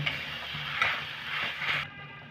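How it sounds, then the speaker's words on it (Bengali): Ground onion and garlic paste frying in a pan for a spinach (palong shak) dish, a steady close sizzle with light spoon scrapes and stirring, ending in a sudden cutoff. "পেঁয়াজের কাঁচা গন্ধটা যতক্ষণ না যাচ্ছে ততক্ষণ কিন্তু একটু পেঁয়াজটাকে ভেজে নেব"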